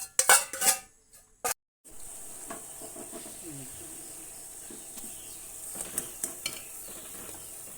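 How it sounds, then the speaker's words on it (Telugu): Jaggery syrup boils on a stove as it thickens for milk talikalu. A few knocks and clatters come first, then a steady soft hiss with scattered small bubbling pops. "స్టవ్ పైన పెట్టి కొంచెం చిక్కబడేంత వరకు మరిగించుకోవాలి బెల్లం పాకాన్ని"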